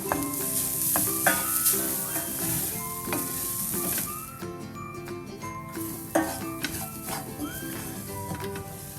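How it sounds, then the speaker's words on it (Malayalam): Freshly grated coconut roasting in a pan for a homemade sweet snack, a continuous soft sizzle with repeated scraping and clinking of a spoon stirring, close and moderately loud, with background music over it and no speech. "അതും കൂടി ഇട്ടിട്ട് ഒന്ന് ചെറുതായിട്ട് റോസ്റ്റ് ചെയ്തെടുക്കണം."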